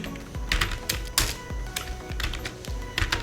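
Someone types code on a computer keyboard, a close, uneven patter of key clicks with a few sharper strokes, steady at moderate volume and without any talk.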